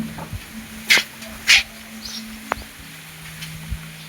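A dog gives two sharp, loud barks in quick succession, close by, followed by quieter faint sounds against a low background hum.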